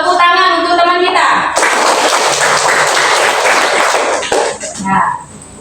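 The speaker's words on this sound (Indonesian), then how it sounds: "Beri tepuk tangan untuk teman kita" Schoolchildren in a classroom break into loud, dense clapping that swells quickly, holds as a busy wash, then tapers off with a few stray claps and a voice.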